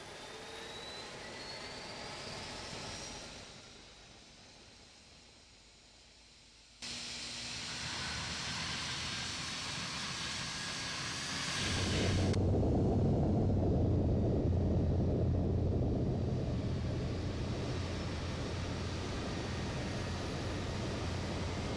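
Airliner engines start up in Microsoft Flight Simulator X: a steady jet whine that dips quieter, then jumps and rises into a louder, deep roaring hum as the engines spool up, long and continuous with no talking.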